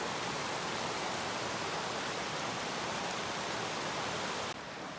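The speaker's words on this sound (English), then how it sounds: "First river crossing in the Sierra." River flowing at a Sierra river crossing in the mountains, a steady, loud broadband rush of water that stays constant throughout with no talk.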